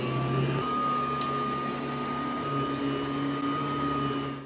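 A vacuum cleaner runs steadily under a plant stand, a loud continuous motor whine with a droning hum whose pitch shifts slightly partway through, no voices over it.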